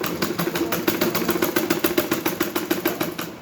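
A sewing machine stitching a lined suit runs at a fast, even rhythm, its needle producing a close, loud, rapid train of regular mechanical beats that slows slightly toward the end.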